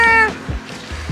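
A cat in Greece gives a single short, close, loud meow that quickly fades into quiet background noise.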